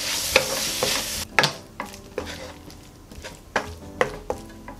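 Onions stir-fry with a spoonful of perilla oil, a close sizzle punctuated by sharp, rhythmic spatula strikes and scrapes against the pan, with no speech.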